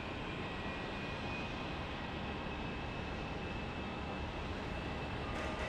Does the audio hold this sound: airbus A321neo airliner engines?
yes